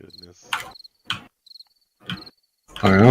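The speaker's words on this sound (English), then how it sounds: "I hear crickets." Crickets chirp in the video game 7 Days to Die, a steady high-pitched trill running through the scene while brief voice bursts and game sounds come and go in between.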